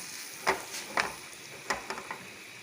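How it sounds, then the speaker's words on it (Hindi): A whole egg fries in ghee in a pan with a soft, continuous sizzle, broken by a few sharp pops and crackles close by, without any speech. "ये हमारा एग हो रहा है ज़बरदस्त सा फ्राई"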